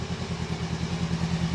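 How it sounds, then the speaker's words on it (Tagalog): A Honda Rebel 500 motorcycle engine idles just after a remote start, a steady, close, low throbbing rumble with an even pulsing rhythm and no talk. "start agad yung makina."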